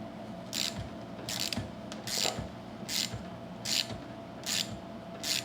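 Ratchet with an 8mm socket loosening a nut on a Stihl hedge trimmer, seven quick bursts of rapid clicking repeating evenly over a quiet workbench background.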